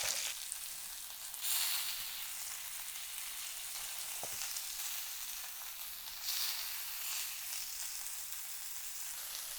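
Sea bass fillet sizzles skin-side down in a hot pan, a steady, close crackling hiss that swells slightly at moments and carries on alone without talk.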